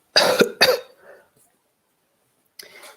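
A single person coughing twice in quick succession, close and loud, followed by a softer throat sound and a faint breathy trailing cough after a pause.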